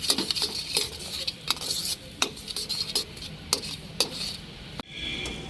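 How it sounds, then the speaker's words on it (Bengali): Spoon stirring pea filling for koraishutir kochuri with roasted cumin powder in a pan, a run of scraping metal clicks and knocks in an irregular rhythm, close and moderately quiet, with no talking. "ভালো করে মিশিয়ে নেব, আর এই ভাজা জিরে গুঁড়োটা দিলে একটা সুন্দর স্মেল আসবে।"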